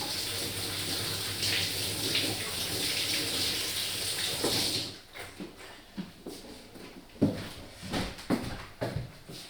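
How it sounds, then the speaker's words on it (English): A pear rinsed under a running kitchen tap: a steady rush of water pours for about five seconds, then stops, followed by close handling knocks, drips and clunks around the sink. "so I'm going to go and wash the pear."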